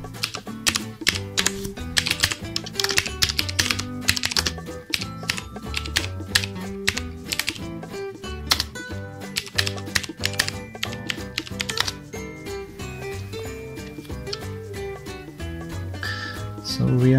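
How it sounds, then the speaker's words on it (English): Typing on a computer keyboard while entering terminal commands to install a steganography tool, heard as rapid clicking keystrokes over a steady bed of loud background music. "Now type the command as I am typing."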